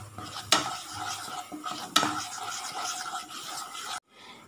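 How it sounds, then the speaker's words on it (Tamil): Maida flour roasting in butter on a low flame while a spoon stirs it, giving soft close scraping strokes with two sharper clinks against the pan, then a sudden cut to near silence. "இதை நல்லா நம்ம சிம்லேயே வச்சு இந்த மைதாவை நம்ம நல்லா ரோஸ்ட் பண்ணணும்"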